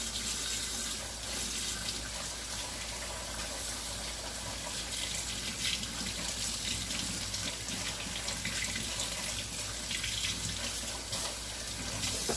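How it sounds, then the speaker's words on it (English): Tap water runs steadily while hands are washed under it in a home kitchen during preparation of a ricotta and mozzarella stuffed meatloaf roll, a continuous gushing splash with no talking. "Wash my hands."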